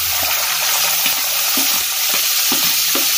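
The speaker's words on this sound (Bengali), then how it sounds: "একটুখানি এটাকে ফ্রাই করে নিচ্ছি।" Chopped onion frying in oil with dried chilies and whole cumin, an even sizzle under repeated rhythmic scrapes and taps of a spatula stirring the pan, close and fairly loud, without speech.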